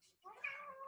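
A single drawn-out cat meow, rising then holding, is heard faintly and alone in a quiet room.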